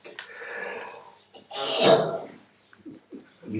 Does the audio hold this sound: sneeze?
yes